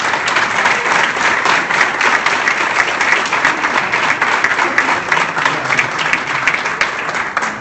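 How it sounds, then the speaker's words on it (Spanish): An audience gives a speaker a long, loud round of applause at a talk in Asunción, many hands clapping in a dense, even stream throughout. "Simplemente les pido un enorme aplauso y darte un gracias enorme por estar acá."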